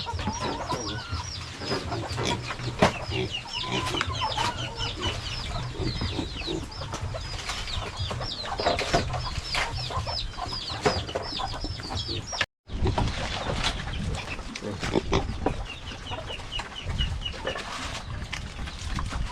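A hen clucks repeatedly, with other chickens clucking and murmuring around it in a busy, close farmyard chorus; a brief silent gap interrupts midway.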